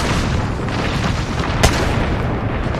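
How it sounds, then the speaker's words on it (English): A thermite grenade going off in a video game: a dense roaring burst with one sharp crack partway through, loud and continuous for the whole stretch. "Thermite grenade set."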